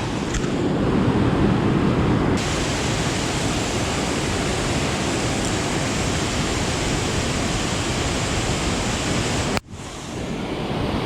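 Rushing waterfall below Center Hill Dam, a loud, continuous broadband roar of falling water that fills the scene, briefly cut near the end before resuming.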